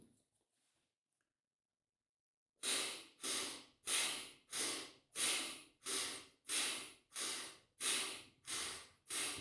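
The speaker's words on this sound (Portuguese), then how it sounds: "vamos fazer a respiração do sopro rápido, assim" Rapid blowing breaths in a yoga breathing exercise, about ten loud, close, evenly spaced forceful exhalations following a brief near-silent pause.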